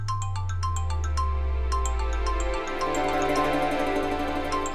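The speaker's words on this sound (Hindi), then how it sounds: "अरे, ये तो अनु का फोन बज रहा है।" A mobile phone ringtone plays a bright, repeating electronic melody, loud and close, with a low hum underneath for the first half.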